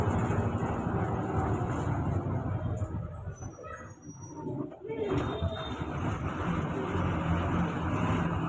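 Vehicles run past a forest checkpoint at night as a steady roar of engines and road noise, rising briefly and dipping midway as one passes, heard close from inside a bus with faint talk underneath.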